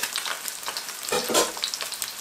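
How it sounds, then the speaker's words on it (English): Sea bass slow-fries in a frying pan, giving a close, steady crackling sizzle with fine spitting pops and a brief louder burst midway, with no talking. "you wanna slow fry the fish"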